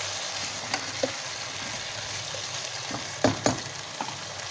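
Cubed bell pepper frying in a pan for Thai chicken fried rice, a steady close sizzle with a few sharp clatters of stirring near the end.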